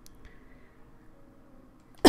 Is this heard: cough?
yes